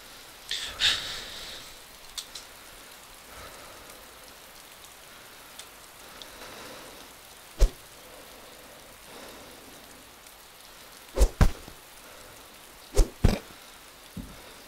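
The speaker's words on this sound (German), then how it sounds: "Das ist echt starker Regen, ey." Heavy rain in the video game DayZ, a steady soft patter of drops across the whole stretch with a few sharp, brief knocks and bumps standing out near the end.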